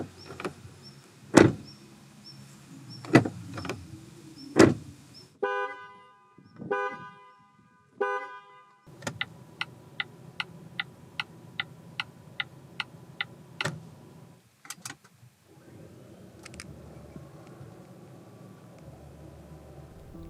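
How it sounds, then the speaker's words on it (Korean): A Volvo XC90 B6 SUV produces a sequence of its own sounds: sharp clicks, electric motor whirs, bright chime tones and a run of evenly spaced ticks, each fairly close and separated by quiet gaps, with no talking. "잠시 XC90 B6가 들려주는 감성 측면의 소리를 들어볼까요?"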